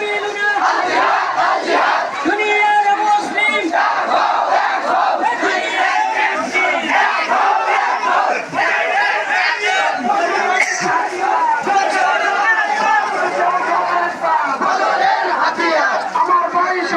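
A large crowd at a street protest march over the plight of Palestinians chants loudly and steadily in unison, a dense roar of many voices that never lets up.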